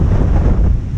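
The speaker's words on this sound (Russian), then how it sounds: "Ветерочек тут сдувает, как на ветряных фермах в Техачме" Strong, loud wind buffets the microphone on a mountain trail near Dicks Pass on the Tahoe Rim Trail, a dense continuous roar with low rumble and no talking.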